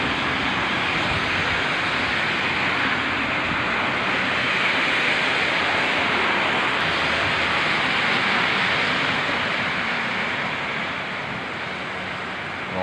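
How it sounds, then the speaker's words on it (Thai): Heavy storm wind and rain lash Taiwan in a dense, unbroken roar of wind and pouring rain, loud and close, easing slightly near the end, with no voices. "ลมหนักเลยครับตอนนี้กำลังถล่มไต้หวันนะครับพายุเข้าครับ"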